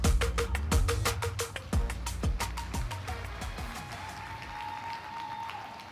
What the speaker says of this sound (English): slowest moving excuse for a round of applause.